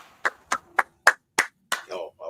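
Six distinct hand claps at a steady rhythm, close and sharp, followed by brief vocal sounds at the end.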